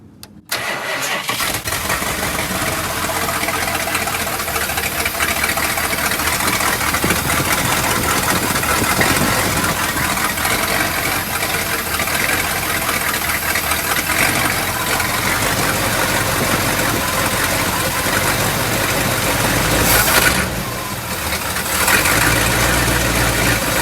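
A 1965 Imperial LeBaron engine, long left sitting, turns over and catches, then settles into a steady, loud idle that runs close by and alone for the rest of the stretch.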